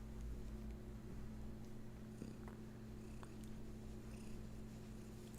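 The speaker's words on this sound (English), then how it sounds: "I don't know if you can hear her purring in the background." A steady, soft rumbling purr from a cat runs continuously beneath a low electrical hum, faint and close.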